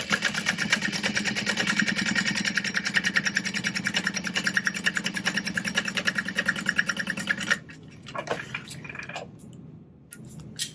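Steady mechanical hum with a rapid, even needle rhythm as a sewing machine top stitches across the side of a Karvi Mini backpack, running continuously for several seconds and then stopping, followed by fainter handling noises.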